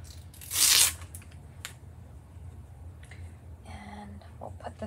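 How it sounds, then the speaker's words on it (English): A Chalk Couture transfer has its backing peeled off in one short, loud ripping burst near the start, followed by quiet room tone with faint rustles and small handling sounds. "Just remember that you peel off that backer."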